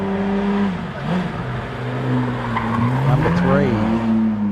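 Talbot Tagora XU1 rally car, a well-presented Tirana, racing up a lakeside hillclimb course, its engine loud and close with rising and falling revs through gear changes and brief tyre squeal, with faint commentary beneath.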